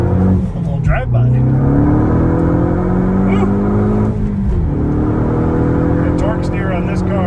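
A 2013 Ford Focus ST3, a front-wheel-drive hot hatch, drives by through a curve on a country road. Its engine hum is loud and close, with pitch rising and falling as it accelerates and passes.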